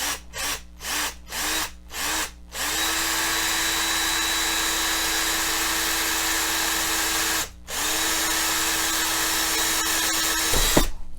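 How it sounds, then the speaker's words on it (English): Power drill whirs in several short bursts, then runs steadily as it bores through wood for a foot stool, briefly pausing before finishing with a knock. "I'm going to drill my hole, get right in the center here and drill my hole."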